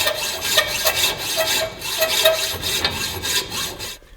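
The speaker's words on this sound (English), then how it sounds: "A new hacksaw blade would be your friend for sure." A hacksaw with a half-worn blade cuts through a Yamaha YZF-R6 motorcycle exhaust pipe, making rapid rhythmic rasping strokes, close and loud, that stop near the end.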